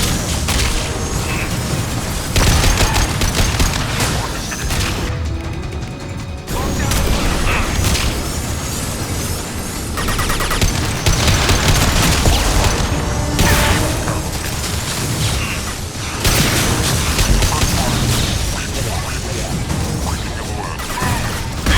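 Heavy gunfire and explosions in Mass Effect 2 combat, with repeated loud booms, crashes and whooshes in dense bursts, broken by brief lulls, and a voice talking faintly in places.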